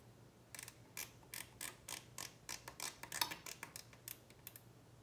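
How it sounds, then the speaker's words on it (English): A rapid series of sharp plastic clicks and ratcheting ticks as a zip tie is tightened on a Monoprice Maker Select Plus 3D printer, close up, in uneven bursts over a quiet background. "Then tighten the zip tie."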